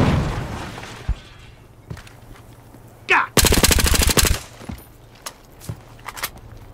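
Gunfire in Battlefield Hardline: a sharp shot, then a loud rapid automatic burst of about a second, followed by scattered lighter single shots over a low, steady background hum.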